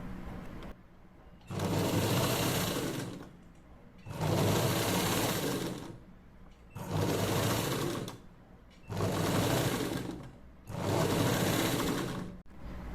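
A sewing machine stitches lining cloth in five even bursts of whirring, each lasting about two seconds with short quiet pauses between, moderately close and clear.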